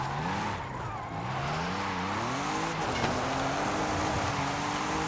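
Car engine in Forza Horizon 5, a steady droning engine note that climbs and shifts in pitch as the car drives, continuous and fairly loud with no voices.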